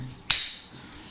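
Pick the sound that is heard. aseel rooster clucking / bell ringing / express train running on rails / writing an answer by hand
bell ringing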